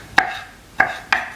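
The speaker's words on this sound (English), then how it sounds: "take my shrimp and cut it in small pieces" A knife chops shrimp into small pieces on a board, three sharp close knocks at uneven spacing with brief ringing between, no voices.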